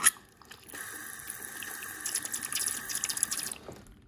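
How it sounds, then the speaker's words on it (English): Close-up flush of a mini Kohler Dexter urinal model: a sharp onset, then about three seconds of steady rushing, splashing water that stops abruptly, heard alone with no talking. "So yeah, now I'll do even a closer flush like this."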